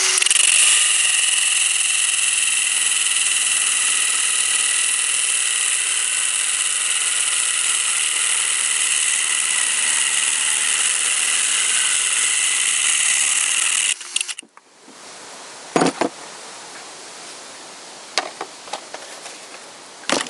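An electric drill fitted with a cutting disc grinds through a steel bolt in one loud, steady, high-pitched screech that holds for about fourteen seconds, then cuts off, leaving a few faint clicks and knocks.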